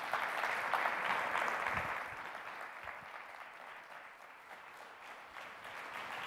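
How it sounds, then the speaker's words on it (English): A conference audience applauds steadily, a dense patter of clapping that gradually thins and softens toward the end. "Big round of applause for Jeff Cole."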